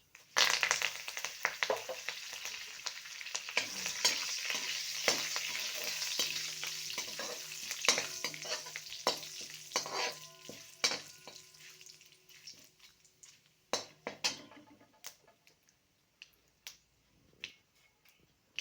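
Asafoetida and twenty to twenty-five curry leaves hit hot oil while chivda is being made, crackling and sizzling loudly up close. The sizzle fades into scattered sharp pops and spits toward the end, with no voices.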